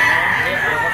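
A stag rooster crows briefly at the Lipa auction market in the Philippines, one short, loud crow set against busy market chatter.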